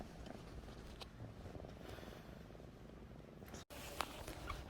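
A cat purrs in a close, continuous rumbling drone with a steady pulsing rhythm, briefly broken by a short gap near the end.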